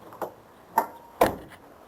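The door of a Camaro Z28 makes three sharp, close clunks and clicks about half a second apart. The latch parts are worn and retaining clips are missing, and there is quiet between the knocks.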